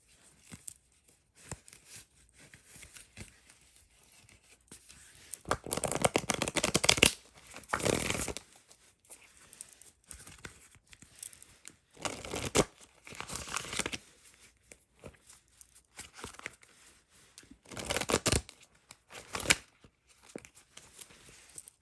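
Bursts of riffling and ruffling from a deck of tarot cards being shuffled, several loud flurries separated by quieter handling, close by with no talking.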